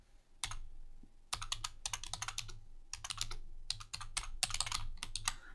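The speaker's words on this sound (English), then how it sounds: "I'm just going to type in Premiere is awesome." Bursts of typing on a computer keyboard, close and crisp, with clusters of rapid key clicks separated by brief pauses over a few seconds.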